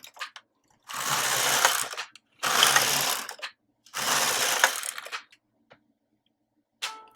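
A knitting machine carriage set to hold slides across the needle bed in three long, steady mechanical passes of about a second each, with quiet pauses between them and a faint click at the end.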